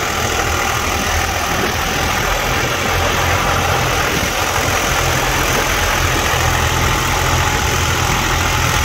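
A New Holland 6510 Excel or John Deere 5405 Gear Pro 4WD tractor engine runs in first gear at 2100 rpm with a loud, steady, close diesel drone and a constant low throb, with no voices.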